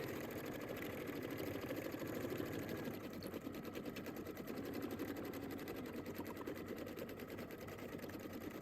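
Sewing machine stitching fabric for handmade Valentine's cards, a steady rapid needle chatter running continuously with a low motor hum, fairly faint and unbroken throughout.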